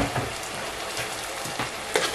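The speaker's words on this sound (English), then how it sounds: "I'm just going to fry this together with the onion" Onion frying in a pan with blended scotch bonnet pepper, ginger and garlic: a steady close sizzle with a few soft stirring scrapes.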